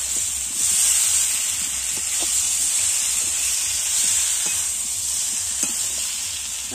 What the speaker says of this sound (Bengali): এঁচোড়টা দিয়ে একটু কষাবো